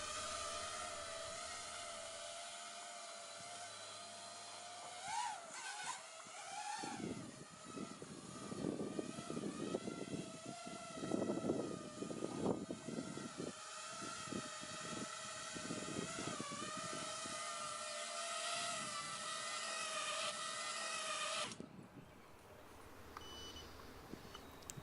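A GEPRC KHX5 FPV quadcopter drone flies line of sight, its propellers whining in a steady high buzz that rises and falls in pitch with throttle changes, faint and at a distance, before cutting off near the end.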